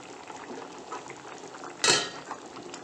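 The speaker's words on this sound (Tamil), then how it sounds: "குழம்பு நல்லா கொதிச்சிடுச்சு" Mushroom kulambu curry bubbling in a pot, a quiet, constant burble with soft gurgles, interrupted near the end by one sharp metallic clatter of a lid or utensil.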